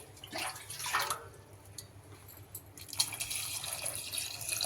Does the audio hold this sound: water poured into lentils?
yes